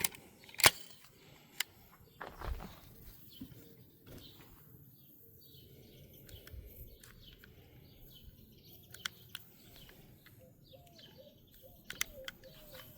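A Hwasan CO2 airsoft target pistol fires a few sharp, isolated snaps spaced seconds apart, fairly quiet against an outdoor background with faint bird chirps.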